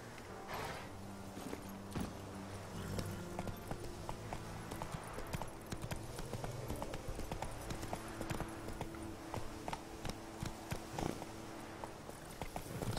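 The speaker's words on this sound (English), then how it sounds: "Oh look, another wild horse." Wild horse hooves clip-clopping in The Witcher: Wild Hunt, a steady run of hoof falls at moderate loudness over game ambience, with a brief whinny nearby.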